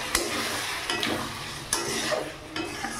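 A spice paste with cashew and poppy seed water for a paneer dish sizzles and is stirred in a pan, with a steady frying hiss broken by a few louder scraping strokes of the spoon, close and without voices.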